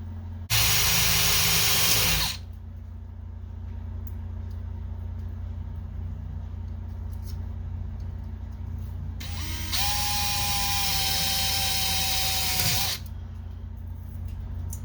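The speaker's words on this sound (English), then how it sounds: "drilling the holes in our mouse guards. He's got a special drill bit called a Forstner bit" A drill fitted with a Forstner bit whirs loudly for about two seconds, boring holes in wooden beehive mouse guards; after a quieter stretch a second whining drill burst with a rising tone runs for several seconds.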